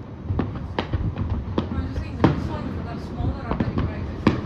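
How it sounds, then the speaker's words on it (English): Fireworks of a second wave at Al Raha Beach in Abu Dhabi go off as sharp, fairly distant pops and bangs at irregular intervals, with people talking softly nearby. "And now there will be second wave of a firework."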